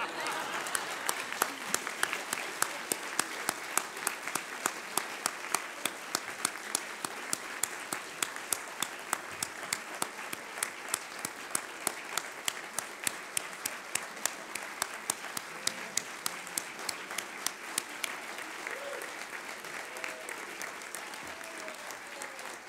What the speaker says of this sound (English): Could we give a nice round of applause?